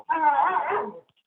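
A dog gives a single loud, close, whining bark lasting about a second, picked up through an attendee's microphone during an online public meeting, with silence before and after.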